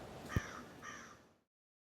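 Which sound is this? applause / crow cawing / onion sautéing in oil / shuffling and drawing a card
crow cawing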